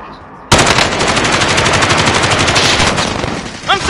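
Sustained automatic gunfire in a PS4 shooter game, a loud continuous burst of rapid shots starting abruptly and running for several seconds at close range.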